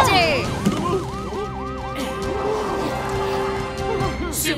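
A cartoon fire truck siren wails in steady rising and falling sweeps inside an upbeat children's song. The siren is loud and continuous over the backing music for several seconds.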